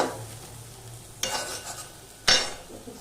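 Mushrooms for a mushroom masala fry in a pan with a soft, steady sizzle, broken by two sharp scraping clatters as a spoon stirs them.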